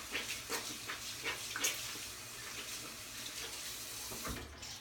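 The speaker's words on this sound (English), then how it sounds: "I'm literally going to run water. I'm in my bathroom." A bathroom tap runs steadily as a beauty blender sponge is squeezed and wetted beneath it, the faint, close splashing shifting as the sponge is pressed, with no talking.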